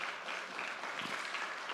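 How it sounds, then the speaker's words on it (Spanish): A church congregation claps together in a steady, moderately loud burst of applause, continuous throughout with no voices rising above it. "Denle un aplauso al Señor."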